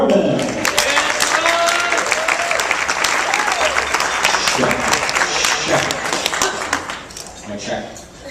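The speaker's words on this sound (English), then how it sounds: "A round of applause for Troy Corbin." Wedding reception guests applaud for the best man as he is introduced for his toast, a loud, continuous burst of clapping that fades out over the last second, with some voices mixed in.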